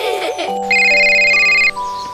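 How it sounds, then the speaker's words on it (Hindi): A phone ringtone sounds in an animated Hindi cartoon scene: a short electronic melody of bright sustained tones over a couple of seconds, clear and close, with no talk. "बोलो नेहा, किस लिए फोन लगाया है?"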